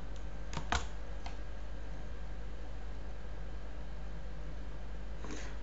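A few quick keystrokes on a computer keyboard while a search term is typed into MATLAB help, close light clicks in a short burst followed by another near the end over faint steady hiss.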